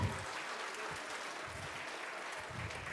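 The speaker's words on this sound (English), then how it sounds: "Students of Saint Kabir, Navrangpura, come on, your claps cannot stop here" Steady applause from a school audience at an awards ceremony fills the clip, a dense continuous patter of many hands clapping at moderate distance, with no talk.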